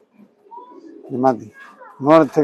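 Tournament racing pigeons coo nearby in a few loud, throaty bursts with short pauses between, one bird close to the listener.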